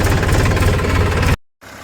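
Farm tractor engine running, a loud, close, rough diesel chug with rapid knocking pulses, cutting off abruptly near the end before a faint return.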